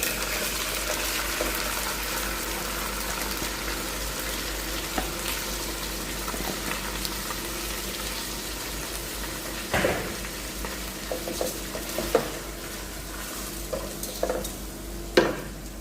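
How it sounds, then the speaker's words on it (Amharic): Soaked, washed rice goes into a hot pan for mandi, giving a low steady sizzle with scattered scraping stir strokes and a few sharper knocks near the end. "ከዛ ሩዝ ነው የምጨምረው።"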